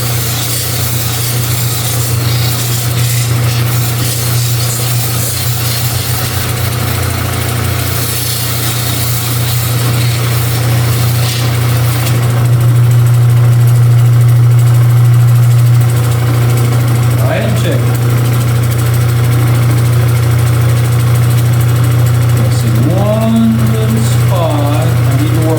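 A cabochon stone held against a spinning diamond grinding wheel makes a loud, steady motorized drone with a strong low hum and a rough grinding wash, while someone talks over it.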